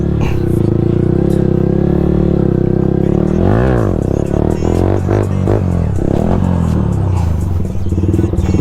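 Motorcycle engine revving hard as the rider pulls a wheelie on a road, a loud nearby roar rising and falling in pitch with a sharp swell midway, engine noise filling the whole stretch.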